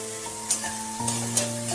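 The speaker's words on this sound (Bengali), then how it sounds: "গাজর দিয়ে একটু নেড়ে তারপরে দিয়ে দিচ্ছি বিনসগুলো।" Carrots and green beans stir-fried in a pan, a steady close sizzle with a few sharp scrapes of the spatula as the vegetables are turned.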